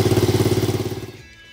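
A Honda Dax motorcycle engine being brought back into running order putters with a quick, even thumping pulse up close, then dies away as it shuts off within about a second and a half.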